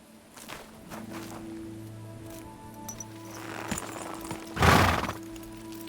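Horse sounds from the medieval game Kingdom Come Deliverance 2, with a loud burst near the end like a neigh and soft hoof steps and rustling beforehand over a steady low game ambience.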